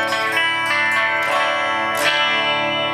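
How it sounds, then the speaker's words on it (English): A sustained electric guitar chord through an amp app rings out with a shimmering, wavering chorus effect, with a few strums restriking it. "So we're going to color it a little bit by adding a chorus."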